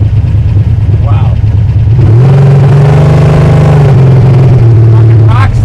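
Engine of the Ring Brothers ENYO car heard from inside while riding, a loud steady drone that rises in pitch and holds, under excited talk and wind.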